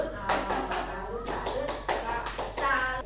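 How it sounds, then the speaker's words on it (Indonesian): A classroom group performs a tepuk salut, a rhythmic clapping salute, with several quick bursts of hand claps in a patterned beat and children's voices mixed in. "Tepuk salut buat Bu Mulyani."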